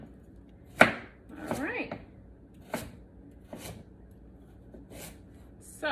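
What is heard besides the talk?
vegetables being chopped on a board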